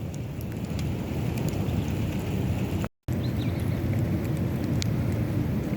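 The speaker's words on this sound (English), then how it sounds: "The rain has gotten a little more intense." Steady, fairly loud broadband rain in the desert as a tropical storm passes, falling harder than before, with a brief dropout midway and occasional faint rumbles and distant tones; no voices.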